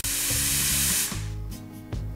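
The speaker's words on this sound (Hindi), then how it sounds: "कुकर से प्रेशर निकल गया है।" A loud, steady rush of escaping steam from a pressure cooker cooking carrot soup hisses for about a second, then cuts off, leaving a low mechanical hum with a brief final puff.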